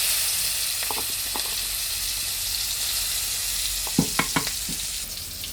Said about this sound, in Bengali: এবার চেঁচে রাখা পেঁয়াজগুলো কড়াইতে দিচ্ছি